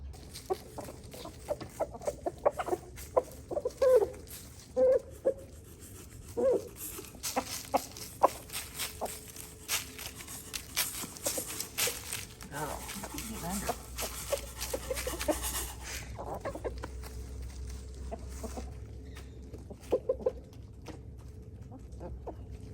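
Buff Orpington backyard chickens cluck in scattered bursts near and far, with a low rumble underneath and no talking.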